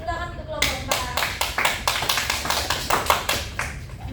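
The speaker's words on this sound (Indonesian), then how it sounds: "Beri tepuk tangan untuk kelompok" A classroom of students gives a round of applause for a student group after its presentation, with dense, steady clapping that starts abruptly and continues evenly and fairly close.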